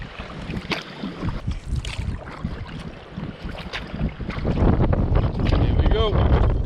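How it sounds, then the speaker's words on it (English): Strong wind buffets a small boat on the Inside Passage during a storm, roaring and gusting against the microphone in surging waves that grow louder toward the end. "I think it's just the wind."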